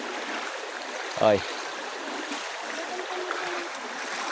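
Steady broadband rush of river water flowing through an upstream stretch being cleaned, continuous and moderately loud throughout, with a brief spoken exclamation near the start.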